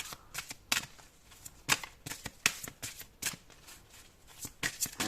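Tarot cards are shuffled and drawn during a February 2024 Virgo horoscope reading, a close run of crisp, irregular riffling flicks and soft card slaps with no one talking.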